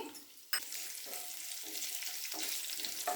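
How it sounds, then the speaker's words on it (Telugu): Mustard seeds, cumin, crushed garlic cloves, dry red chilies and curry leaves frying in hot oil, a steady close sizzle and crackle with a sharp burst as something is added, no voices. "ఆవాలు జీలకర్ర దంచి పెట్టుకున్న వెల్లుల్లి రెబ్బలు ఎండుమిరపకాయలు వేసుకొని ఇవి కొద్దిగా వేగిన తర్వాత కరివేపాకు వేసుకొని"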